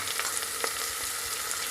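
Green chilies and ginger garlic paste sauté with pink-softened onions for a paneer biryani, a dense, steady close sizzle with faint scraping stirs.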